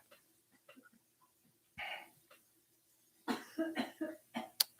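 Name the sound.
person coughing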